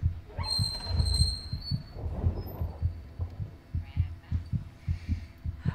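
Steady heartbeat pulses throb low and loud in the horror game Among the Sleep, repeating in an even double-thump rhythm over a murky ambient drone, with a brief airy rustle partway through.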